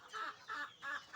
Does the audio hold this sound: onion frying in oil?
no